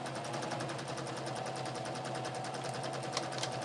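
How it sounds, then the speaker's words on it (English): Sewing machine stitching quarter-inch seams on four-patch quilt block units, a steady fast mechanical whir with rapid regular needle strokes running close and constant, with no talking. "I'm going to take them to my machine and stitch a 1/4 inch."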